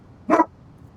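A single short dog bark, close and loud, standing alone against a quiet background.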